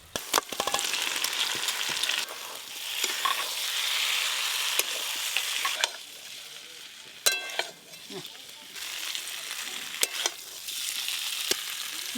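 Spices fry in hot oil for a cauliflower curry, with a continuous hissing sizzle and scattered sharp crackles and pops, with a few bursts louder than the rest.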